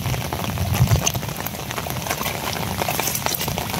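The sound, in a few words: heavy rain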